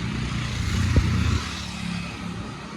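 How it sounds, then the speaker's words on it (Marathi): A learner's new scooter is ridden through a crowd, giving a steady low engine rumble with a brief swell near the middle. No voices are heard. "नेत्रा गर्दीमध्ये पण चालवते बघा गाडी"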